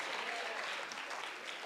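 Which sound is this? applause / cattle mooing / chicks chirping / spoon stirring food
applause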